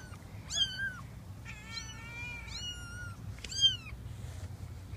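Young kittens in a litter give several high, thin meows in short bursts, close by but fairly soft, over faint background noise.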